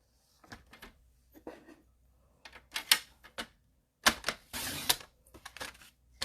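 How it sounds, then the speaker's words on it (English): A paper trimmer slicing cardstock down to card size, giving a run of close, sharp clicking and scraping strokes with short pauses between them and a longer rasping cut near the end. "So let's cut this at 5 1/2 first."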